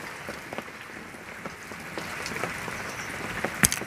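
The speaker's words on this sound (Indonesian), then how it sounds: "Hujan rintik-rintik ya. Hujan rintik-rintik." Light drizzle patters outdoors in a soft, continuous scatter of small drops on surfaces, steady and moderately near, with a few sharper taps and no talking.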